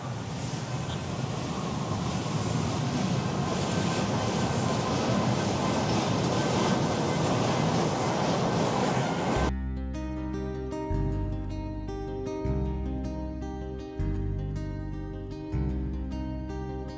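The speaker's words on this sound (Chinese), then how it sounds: "这里就是他们的轻轨站。" A light rail train at a station in the Philippines fills the first half with a steady, loud rumbling roar before music abruptly takes over.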